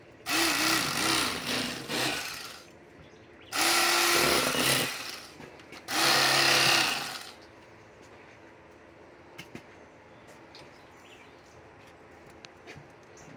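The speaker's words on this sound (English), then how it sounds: "See how I took a lot of that red meat off right there with that electric fillet knife." An electric fillet knife cutting into flathead catfish meat, buzzing in three loud bursts of a few seconds each near the start, then quiet with faint clicks.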